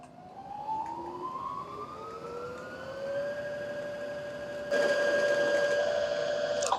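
A domestic lockstitch sewing machine winds a bobbin with a steady whirring motor whine. The pitch rises smoothly as the pedal is pressed, then holds, and the machine gets louder and steadier after a sudden jump in speed.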